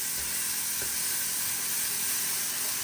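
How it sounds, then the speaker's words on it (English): Mushrooms sauté in butter over high heat in a home kitchen pan, giving a steady bright sizzle and hiss with faint stirring underneath. "we're gonna throw in some mushrooms and saute those"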